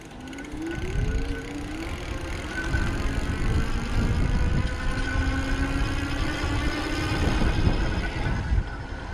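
A Magnum Ui6 electric bike motor at full throttle climbing a hill, giving a steady whine that rises in pitch as it speeds up, with rushing wind and road noise.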